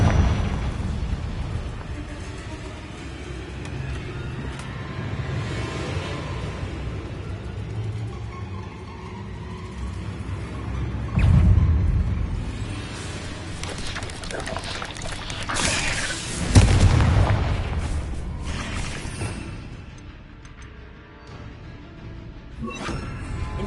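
Confringo spell explosions in the PS5 game Hogwarts Legacy burst as booming blasts over a steady rumbling battle ambience, with two heavier impacts standing out midway and near the end.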